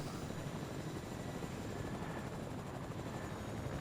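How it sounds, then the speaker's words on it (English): A helicopter in the Fortnite video game drones with a steady, even rotor roar, constant and fairly faint throughout with no voices. "So yeah, the helicopter seems kind of useless."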